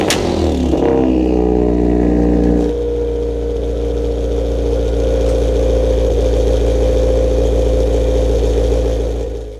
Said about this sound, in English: we will slice in here a cold start.